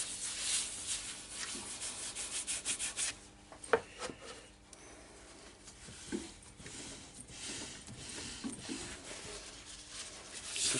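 A hand rubs finish into a yew wood bud vase with the lathe stopped, making soft, close, continuous scrubbing and rubbing strokes with a few light knocks, quiet overall.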